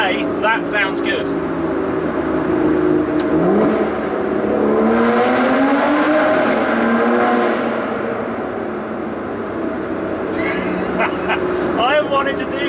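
Inside a tunnel, an Aston Martin V12 Vanquish S accelerates hard in a booming, continuous engine roar that swells in the middle, while someone speaks at the start and end.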